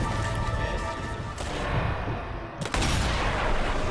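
Gunfire in the World War II shooter Sniper Elite 2 Remastered, a dense, loud, continuous barrage of shots with a sharp burst near the end, under a noisy game mix.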